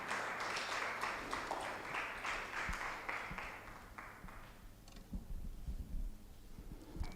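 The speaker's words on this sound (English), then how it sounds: "Please, a round of applause for Prof." Audience at an international financial technology and business innovation conference breaks into applause, a dense, faint wash of many hands clapping for several seconds that thins out toward the end, with a few scattered louder claps.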